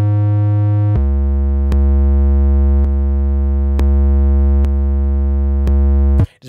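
A loud, buzzy synth note with gritty, saturated harmonics from added distortion and saturation, in an FL Studio hip-hop beat, holds steadily and retriggers several times at a steady pace before cutting off abruptly.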